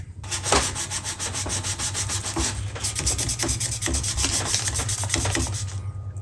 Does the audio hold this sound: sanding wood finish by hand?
yes